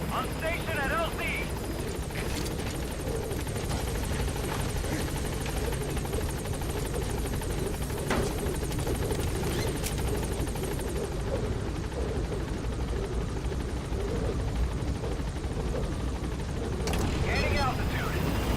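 Helicopter rotor thump and turbine whine from Metal Gear Solid V as the aircraft arrives at a landing zone, a loud steady drone filling the whole stretch, with speech heard over it.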